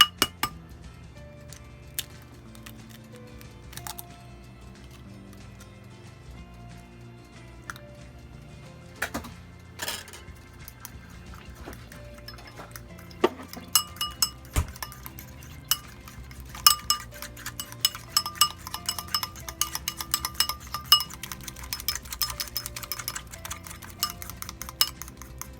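Keto pizza dough ingredients and an egg stirred in a bowl, with sparse clinks at first building into a long run of quick, light utensil taps against the bowl, close up and with no talking.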